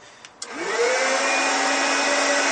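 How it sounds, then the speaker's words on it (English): A home coffee roaster blowing hot air, two short clicks then a motor spinning up into a loud, steady whooshing roar that holds to the end. "it's already blowing hot air, but it's only 5 degrees out"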